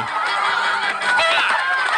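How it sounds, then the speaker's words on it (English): Chickens in the video game Minecraft: Story Mode cluck and squawk in a dense, continuous cluster layered over busy game noise. "Damn chickens!"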